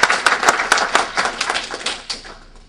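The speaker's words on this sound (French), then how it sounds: "que je vous demande d'applaudir" Audience at a political party ceremony claps in a brief burst of applause, close and fairly loud, with the sharp claps thinning out and fading within a few seconds.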